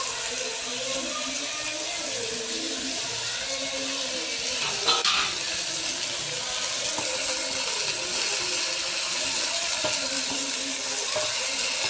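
Broad beans stir-fry in a new clay pot with a wooden spoon, giving a steady, loud, even sizzle throughout with occasional faint scraping.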